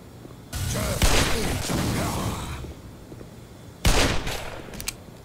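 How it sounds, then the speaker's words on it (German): Gunfire from the video game Black Mesa comes as loud bursts of repeated shots, one long volley and then a second sharp burst, with no talk over it. "Ich glaube, ich schieße einfach schlecht."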